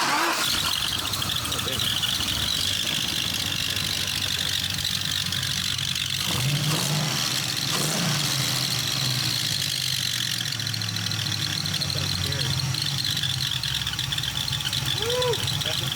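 An LS-swapped BMW E46 runs at a steady rough idle making bad noises, a constant loud engine drone with squealing whines rising over it, recorded up close.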